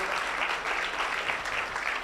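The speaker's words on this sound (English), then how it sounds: "Let's give a round of applause" Steady audience applause fills the room at a strategic plan launch event, a continuous dense clapping with no breaks for the full two seconds.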